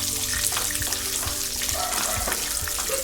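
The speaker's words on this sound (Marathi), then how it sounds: "चांगली परतून घेऊया." Chana dal, urad dal, curry leaves and green chillies sauté in hot oil, giving a steady close sizzle throughout with occasional spoon stirs and scrapes against the pan.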